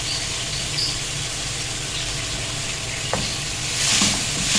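Chopped onions sizzle and fry in a pan while being stirred for stuffed karela with minced meat, a steady loud crackle with a brief clink of the spoon near the end, no talking.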